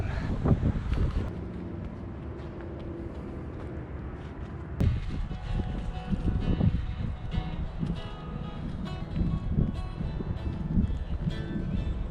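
Strong wind at Red Wing, Minnesota buffets the microphone with low, rumbling gusts that rise and fall throughout, no other sounds standing out.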